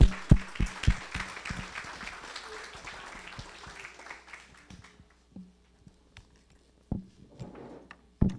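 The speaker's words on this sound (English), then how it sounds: "Everybody, give him a round of applause." Audience clapping at an outreach program event, sharp nearby claps at first, then thinning into sparse scattered claps and a few knocks as it fades out.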